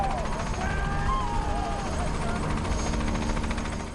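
A rescue helicopter at a search for a missing child makes a loud, close, continuous rotor and engine rumble, with faint voices or other sounds mixed in.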